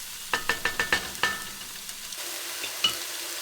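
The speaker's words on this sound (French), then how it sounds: "Pendant que mon bœuf se colore" Oxtail beef browning in a pan, a quick run of sharp utensil scrapes and taps over a faint steady sizzle, then a quieter stretch with one more clatter near the end.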